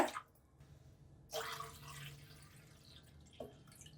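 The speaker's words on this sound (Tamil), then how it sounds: "காயெல்லாம் வேகிற அளவுக்கான தண்ணி ஆட் பண்ணிக்கலாங்க" Water poured into a wide, broad pan for boiling mixed vegetables for avial, heard as a few short splashing bursts separated by quiet pauses, faint and close.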